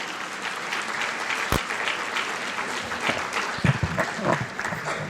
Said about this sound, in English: how about again another round of applause for Sanjay Shah